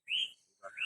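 Small bird giving two quick chirps close by, a bright whistled note followed by a short rising call, alone with no talk.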